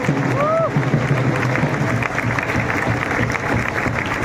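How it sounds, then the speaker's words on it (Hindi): An audience at a JEE Main 2024 results celebration applauds in a dense, continuous patter of clapping that stays steady throughout, with a brief whistle near the start and voices mixed in. "तालियां बजते रहे दो।"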